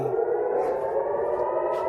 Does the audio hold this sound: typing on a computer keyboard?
no